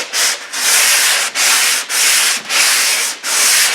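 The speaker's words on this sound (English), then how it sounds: "So back to sanding." Spot filler on a car body is hand sanded with a 220 grit sanding block, a loud, close, harsh rasping in six steady back-and-forth strokes with brief pauses between them.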